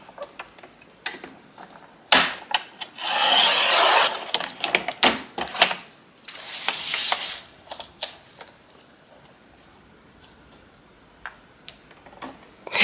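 A paper trimmer cuts paper for a gothic Halloween shadowbox craft. Close clicks and ticks of the blade and paper handling come with two longer rasping slicing strokes, and there is no talking.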